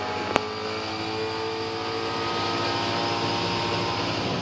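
A Supercar at the Sydney 500 lifts off the throttle before braking, giving a steady, loud engine drone that carries on for some time after a single sharp click near the start.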